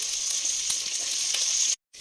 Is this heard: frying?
yes